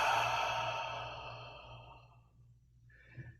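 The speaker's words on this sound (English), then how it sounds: "Take a deep breath." A single deep breath drawn in softly and close, fading out, with a faint short exhale or sigh near the end during a guided meditation practice.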